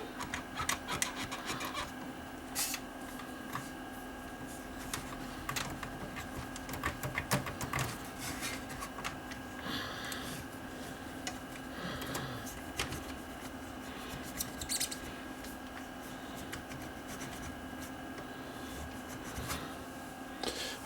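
Cleaning a Panasonic PV-4361 VHS video recorder with a picture that shakes back and forth: continuous close rubbing and scraping with scattered small clicks and knocks, steady and moderately faint throughout.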